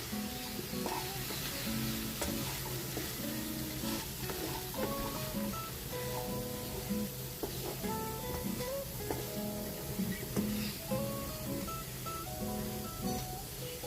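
Steady sizzling of potatoes and other vegetables frying in a pan, with occasional stirring scrapes, continuous and fairly close.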